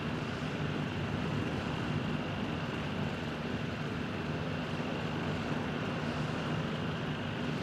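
Steady, droning twin-engine roar of a Cessna 414 in a flight simulator game, a continuous broadband hum with a low throb that holds constant and close throughout, with no voices over it.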